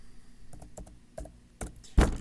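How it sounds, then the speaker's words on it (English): A computer keyboard is typed on in irregular clicks and taps while text is entered in Inkscape, ending with a louder thump, close up and with no voices. "So we're going to click on our page and start typing."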